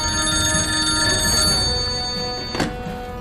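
A telephone rings in a military headquarters office, a single bright ringing burst standing out over steady background hum and scene noise, with no talk over it.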